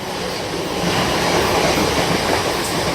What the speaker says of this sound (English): now passing through is the 10:36 South Western Railway service to London Waterloo